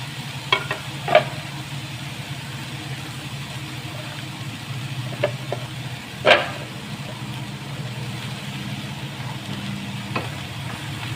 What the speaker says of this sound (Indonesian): Kita aduk ya teman-teman, bagian bawang ada yang nggak kena panas, jadi ini kita aduk.